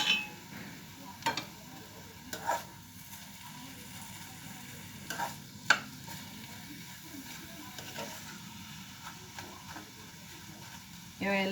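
Grated carrots for halwa sizzle softly in ghee in a pan, stirred with occasional scraping clinks, a steady low frying hiss throughout.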